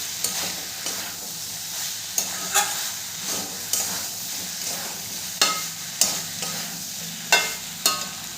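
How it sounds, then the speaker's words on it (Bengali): A spoon stirs fried okra with potatoes and spices in a sizzling pan, dhaba style, with steady frying hiss and repeated sharp scraping strokes roughly every half second to second, close up. "এরপরে দিয়ে দেবো ভেজে রাখা ভেন্ডিগুলোকে। ভেন্ডিগুলো মশলাগুলো দিয়েও খুব ভালো করে মিশিয়ে নেব।"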